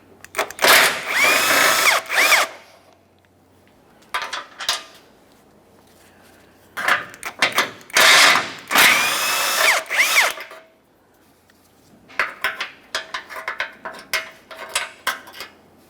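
A power drill spins off the front bumper mounting hardware on a 2014-2019 Toyota Corolla, several close loud whirring bursts of a couple of seconds each separated by quiet pauses, with faint metallic rattles.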